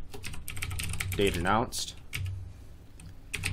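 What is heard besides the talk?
typing on a computer keyboard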